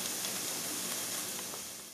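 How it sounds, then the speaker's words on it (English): Onions sizzle steadily in a hot pan, a continuous close hiss of frying that fades slightly toward the end, with no talking over it. "Cook your onions until they're lightly brown."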